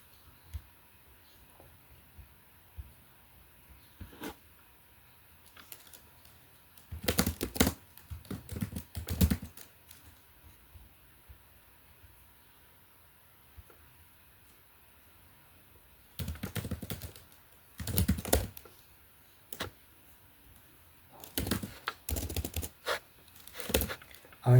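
Python code being typed on a computer keyboard in bursts of rapid key clicks separated by quiet pauses, close and fairly crisp with no talk.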